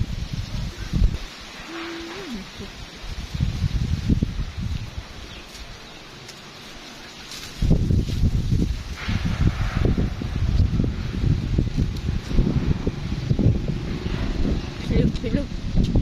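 A strong windstorm thrashes bamboo tops and banana leaves, making loud rustling and roaring gusts that swell sharply midway and then stay intense. People talk intermittently under the wind.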